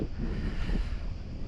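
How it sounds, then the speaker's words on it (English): Wind blows steadily by the sea at Vathy harbour on Ithaca, a broad rushing noise with microphone buffeting, alone and fairly close. "the breeze is coming through now"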